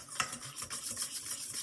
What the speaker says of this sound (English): you want to whisk the dry ingredients